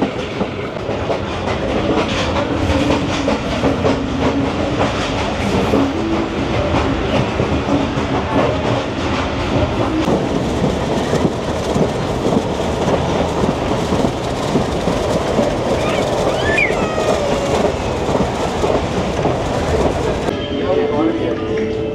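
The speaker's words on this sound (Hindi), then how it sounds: "बुरहान पर हमें क्रॉस मिल रहा है 13 अब अवाम एक्सप्रेस" Passenger train running along the line while the Awam Express crosses, steady loud rumble and rhythmic clickety-clack of wheels throughout, with faint voices beneath.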